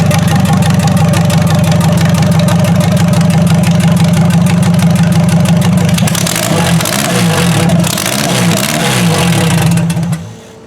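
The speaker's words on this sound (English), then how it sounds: "Now she idles just fine and sounds healthy." A car engine idles loudly and steadily with a low, even rumble, then gives a few quick revs before cutting off near the end.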